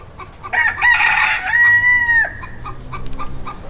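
An Ancona bantam rooster gives one loud, close crow that rises and holds before breaking off, followed by quieter farmyard background.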